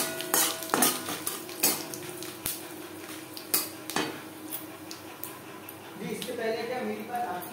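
A spoon clinks and scrapes against a pan while a bay leaf and panch phoron spices fry. Sharp metallic taps come at irregular intervals, followed by a soft sizzle, with someone talking throughout.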